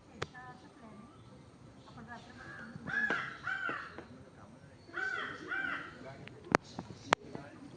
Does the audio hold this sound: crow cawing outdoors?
yes